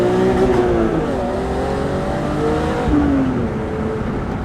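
Interior engine and exhaust sound of a BMW E36 M3 Evolution accelerating, a loud, rising inline-six drone climbing through the revs toward about 5,500 rpm, dipping at a gear change before pulling again.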